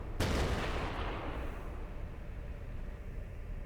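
A single heavy cannon shot from an M44 tank in a video game, a sudden sharp blast that rolls into a long low rumbling decay.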